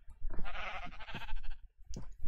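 Minecraft sheep bleating in a single wavering, nasal call near the start, followed by a couple of short clicks and a brief second bleat near the end, with no talk over it.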